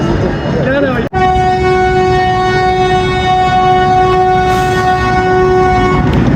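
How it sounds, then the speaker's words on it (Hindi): The 12 Down Hazara Express pulls into Kot Najibullah station, its horn sounding a long sustained harmonic blast after a brief break, over steady rumbling rail noise. "चलो जी कोट नजीबुल्ला पहुंच गई है जी 12 डाउन हज़ारा एक्सप्रेस"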